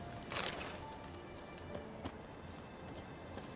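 A horse in The Witcher 3 video game clip-clops nearby, a few hoof strikes and faint snorts over quiet game ambience, with no talk.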